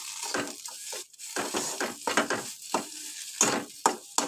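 Pointed gourd peel paste fries in a pan with a steady sizzle, broken by repeated stirring scrapes and spatula strokes close up, with no voices.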